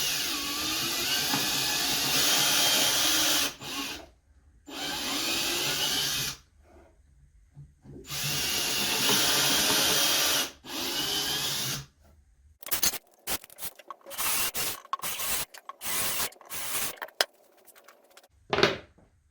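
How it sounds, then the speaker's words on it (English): A power drill bores holes through a wooden drawer box in several separate bursts, each a whining, grinding run of a few seconds, followed by shorter choppy bursts and clatter near the end. "I put a piece of tape at 3/4 inch on my drill bit, so hopefully I won't go too deep into these holes."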